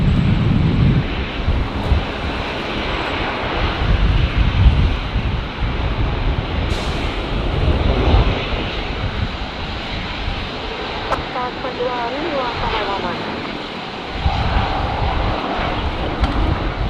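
A Toll Aviation aircraft roars in to land at Brisbane Airport in strong wind, with a loud, continuous engine rumble close by and gusts buffeting throughout.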